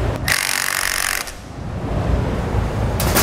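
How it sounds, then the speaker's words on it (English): A cordless driver sinks a large self-tapping Phillips screw into an RV slide-out awning bracket on a 2019 Jayco Greyhawk motorhome. Two whirring bursts come up close, a longer one first and a short one at the end, with a quieter pause between them. "take your large Phillips head screw, it's a self-tapper, and we're going to screw that down in there"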